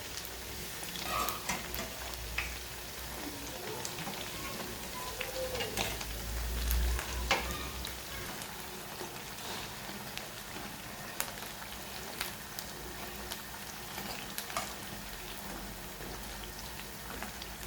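Sabudana potato vadas sizzling in very hot oil while being flipped, a steady crackling fry with scattered pops and a few soft clinks, moderate in level, with no talk.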